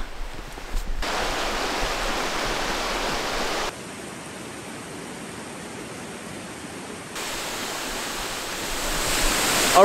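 Continuous rushing roar of Marymere Falls in Olympic National Park, steady and full, shifting in intensity between sections as if heard from slightly different spots.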